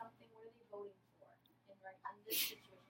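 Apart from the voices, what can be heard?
sneeze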